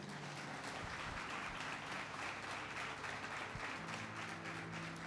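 A church congregation applauds together, a steady dense wash of clapping that fills the room at moderate level with a low hum underneath.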